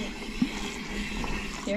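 An automatic horse water trough refills on a trail ride, producing a soft, steady gush of running water. The flow is fairly quiet and close, and a couple of brief thuds stand out near the start and end.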